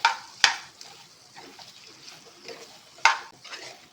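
A utensil scrapes and stirs dry chicken tikka with kasuri methi on a tawa, giving soft, faint scraping with a few sharp metallic clinks, close and quiet.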